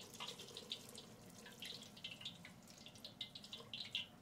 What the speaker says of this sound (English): Just about ready to add our vegetable broth to it